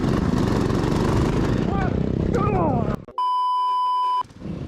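Racing lawn mowers at the Lawn Mower Racing World Championships roar with a dense, buzzing engine noise while people talk over it, then a long steady electronic bleep cuts in before the engines return.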